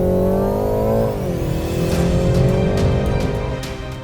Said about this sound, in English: this 2-litre turbocharged 4-banger is more than capable to get that adrenaline flowing.